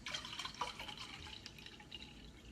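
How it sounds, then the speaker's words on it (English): Apple juice poured into a container for a BBQ rib injection marinade, a near, trickling stream with small splashes and drips running throughout. "There's some apple juice."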